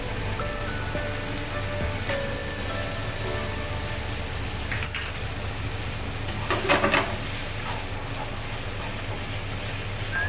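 Spaghetti with pepper sizzles and hisses steadily in a pan of white wine sauce as it is stir-fried, with a brief louder burst of stirring near the end.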